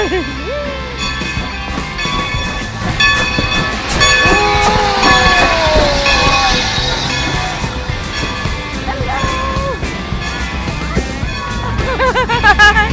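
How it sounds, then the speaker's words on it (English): A steam train on the Strasburg Railroad in Pennsylvania rolls into the station with loud rumbling, metallic squeals and clanking, and a voice speaks briefly near the end. "our train has arrived"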